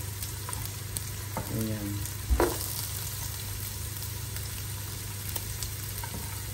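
Onions frying in a pan for pork menudo with chicken liver, a steady close sizzle with a brief clatter near the middle; a voice speaks a single word at one point.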